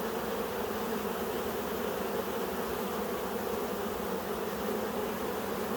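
Honeybees in a nuc hive produce a dense, continuous buzzing swarm hum, steady and moderately loud with no voices, the sound of many wings close by.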